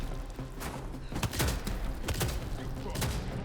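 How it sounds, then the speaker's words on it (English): Shotgun blasts in the video game VTMB2 (Vampire: The Masquerade – Bloodlines 2), several loud close booms fired in quick irregular succession over a dense, noisy game background. "So many shotguns into my head."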